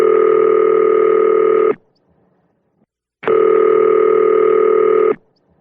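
Two long, steady electronic telephone tones, each close to two seconds long and separated by a silent gap, sounding loud and clean just before a voicemail greeting.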